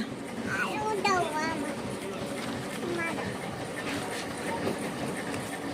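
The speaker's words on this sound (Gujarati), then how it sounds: "વનરાજ શેમાં જવાનો? છુક છુકમાં." A toy train rumbles and clatters steadily in the background while children chatter and talk close by.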